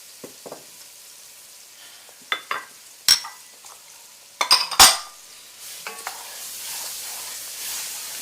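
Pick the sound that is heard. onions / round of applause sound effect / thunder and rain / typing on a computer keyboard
onions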